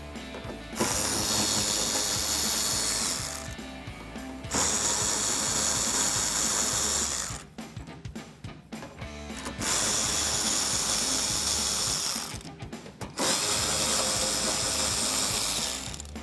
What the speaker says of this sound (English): I'm gonna use my 8mm socket to remove some of the screws here on the inner wheel well